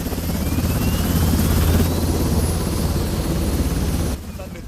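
A helicopter roars loud and close, a steady whirring drone of engine and rotor that holds for about four seconds and then drops away abruptly.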